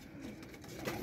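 Pet pigeons coo softly in a short, faint, low murmur over quiet background noise.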